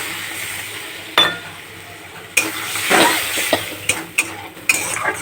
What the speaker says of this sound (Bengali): এবার আলুটা আমি দিয়ে দেব দিয়ে নাড়াচাড়া করে আমি মশলাটাকে এবার ভালো করে কষিয়ে নেব